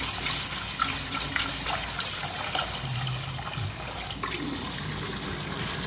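Water runs and splashes steadily onto basmati rice set to soak for biryani, a close continuous trickling, pouring sound. There are a few faint clinks and low background noises beneath it.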